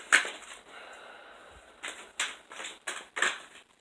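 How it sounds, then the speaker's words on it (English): Quick riffling bursts of tarot card shuffling, several short crisp flurries in a row, close and fairly quiet with brief pauses between. "so I'm going to shuffle them again."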